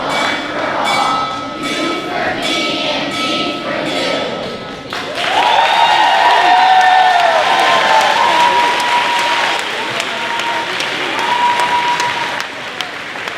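Steady applause from a large crowd at a fifth-grade moving-up ceremony fills the room, then swells louder midway as cheering and whoops join in, with a voice briefly heard over it.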